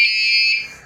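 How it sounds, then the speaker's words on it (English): A wireless bicycle turn-signal horn gives one short, loud, shrill electronic beep that stops abruptly. "if you hit the horn,"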